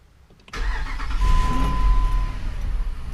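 A 2005 Jeep Grand Cherokee engine cranks and fires on the first try with a new starter, then settles into a steady, loud idle close by.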